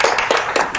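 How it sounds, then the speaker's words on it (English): Short burst of audience clapping after a finance forum presentation, dense and steady for under a second with no voices over it. "We can give her a round of applause."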